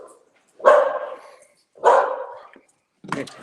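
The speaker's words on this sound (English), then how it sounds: "my dogs are going to start barking here in a minute" Dogs bark indoors, three loud, close barks spaced about a second apart, each with a short ringing tail, then silence between.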